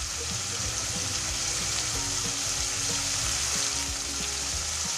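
Sweet and spicy hotdogs fry in a pan with a steady, close sizzle that runs unbroken and alone, with soft stirring scrapes now and then.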